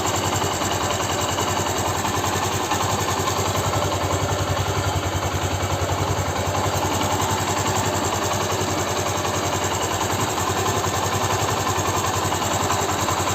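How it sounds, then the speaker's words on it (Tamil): A Honda Shine 125 BS6 OBD2 2025 motorcycle idling at steady low revs, with an even, close, continuous engine hum and slight mechanical clatter, no voices. "இன்ஜினோட சவுண்டு பார்த்துக்கலாம் அப்படியே."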